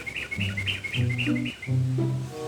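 A bird chirping up close in a rapid, repeated string of bright tweets over a lower harmonic tone, steady and fairly loud, with no talking.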